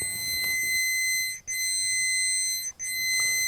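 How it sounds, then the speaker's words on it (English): An Armada Pro700 Duo cable locator in continuous mode holds a steady electronic tone throughout, broken by two short dropouts, with a faint noisy background underneath. "here's what it sounds like with continuous mode"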